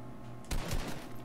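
A single accidental gunshot in Fortnite, played on a controller: one short, sharp blast with a brief rattling tail in the middle of the clip, over quiet game background noise.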